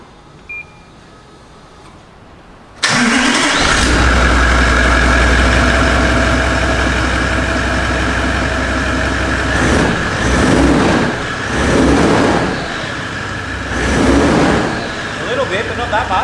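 Toyota 70 series Landcruiser fitted with a Legendex snorkel and airbox cranks and starts abruptly after a quiet moment, then settles into a loud, steady diesel idle close by, with a few faint swells in engine note and no talking.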